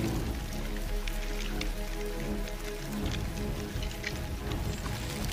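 Steady rain pours down on the arid southwest of Madagascar, a dense, even hiss of drops striking the ground that holds constant and close throughout with no voices.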